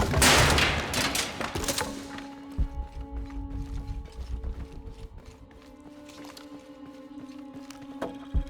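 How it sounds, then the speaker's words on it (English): Gunshots from Shadow of the Tomb Raider blast something open: a dense flurry of sharp cracks up front, then sparse, scattered single shots over a low, steady in-game hum. "let's shoot this shit open"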